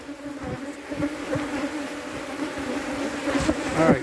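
A swarm of Africanized honey bees buzzes steadily and densely close by, with a continuous droning hum and individual bees darting near and past throughout, under a light outdoor background.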